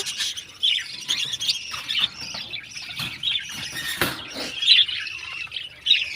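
A small, frightened pet bird that has been laying eggs gives a series of sharp, harsh squawks at irregular intervals, close and fairly loud, with quiet gaps between calls.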